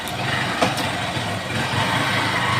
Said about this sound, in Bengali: আমি যাচ্ছি বাইকে করে